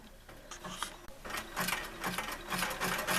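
A sewing machine zigzag-stitching around twisted cord to build a mini basket, running in quick mechanical bursts with brief pauses, close and moderately loud.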